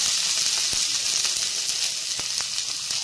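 Whole five-spice seeds and a bay leaf fry in hot oil for a fish curry, giving a steady, close sizzle with a few sharp pops and crackles throughout, with no speech.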